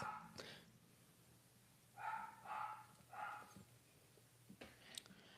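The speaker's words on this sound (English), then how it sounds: "I don't know if y'all can hear my dog is being extremely ghetto tonight." A dog barks three times in the background at a steady spacing, the barks moderately loud against a quiet room, with a brief click or knock near the start and end.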